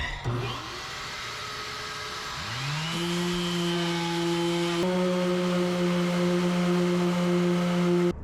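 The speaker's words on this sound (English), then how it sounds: "And now, the sanding." A steady power sander motor whines loudly and continuously, its pitch dropping slightly as it loads up against wood on a wooden boat.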